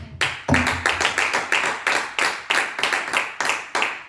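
A church congregation claps in a steady, rhythmic beat during a thanksgiving service, about fifteen loud, even claps in quick succession filling a reverberant room.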